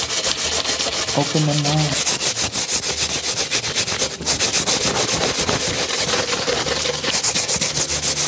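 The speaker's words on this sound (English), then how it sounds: "how I usually try to clean these is with a Scotch-Brite pad. I just put a little elbow grease in and it shines up pretty quick." Scotch-Brite pad scrubbed hard over an engine block, a continuous rough abrasive rubbing that stays loud and steady throughout, with a brief spoken phrase partway through.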